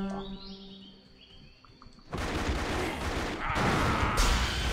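Gunshots in Lara Croft: Relic Run cut in as a sudden loud, dense burst of rapid fire after quieter game music and chirping effects, continuing to the end.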